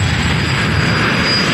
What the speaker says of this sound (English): we have 3 rounds of jet car racing